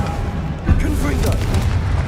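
A Confringo explosive spell blast in the video game Hogwarts Legacy, a loud booming burst with rumbling low end, layered under a player's voice.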